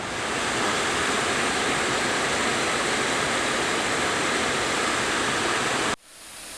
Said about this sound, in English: Waterfalls are always beautiful to look at.